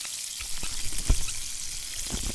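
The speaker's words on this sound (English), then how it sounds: "One old thick piece of bacon. I'm letting it cook a little bit longer." A thick slice of bacon fries in a pan for pepper jack bacon burgers, giving a steady, fairly soft sizzle with scattered pops and crackles and no talking.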